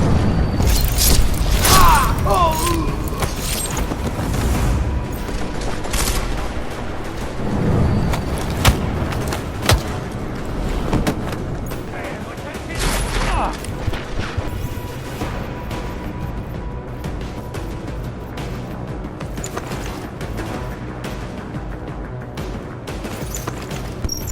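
Gunfire from Deus Ex: Mankind Divided, with sharp, loud bursts and booms early on, then a scattered mix of thuds, crashes and mechanical clatter that carries on at a steady level.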